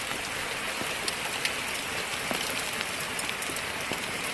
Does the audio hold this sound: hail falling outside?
yes